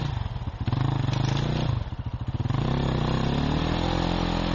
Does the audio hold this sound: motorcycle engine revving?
yes